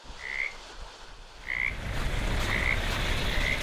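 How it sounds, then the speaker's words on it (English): Frogs croak outdoors on a snowy night, four short rhythmic calls spaced about a second apart over steady background noise. "Apparently there's frogs out there now."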